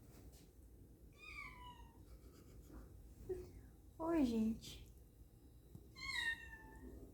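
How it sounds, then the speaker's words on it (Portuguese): A cat gives several drawn-out meows, close and clear, spaced across the moment with one louder, lower cry in the middle, while someone speaks quietly between them indoors. "Tem gato aqui."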